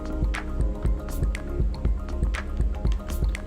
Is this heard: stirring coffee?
yes